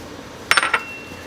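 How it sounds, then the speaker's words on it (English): A debubbling tool pokes around inside a glass canning jar of homemade vegetable soup, giving three or four quick close clinks and taps in a short cluster, then quiet. "you're going to use a debubbling tool, plastic butter knife, or chopstick to release any air bubbles"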